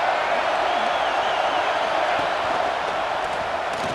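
Steady, dense roar of a large stadium crowd at a Michigan football game, filling the space, continuous and loud with no pauses, a broad wash of many voices blending together.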